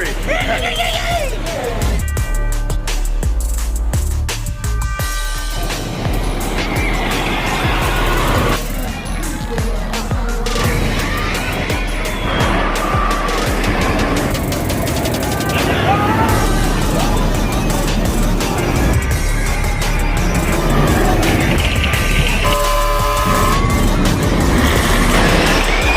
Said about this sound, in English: Last ride of the night in row 1 on Fury.